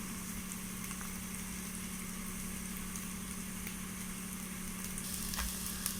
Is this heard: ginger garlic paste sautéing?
yes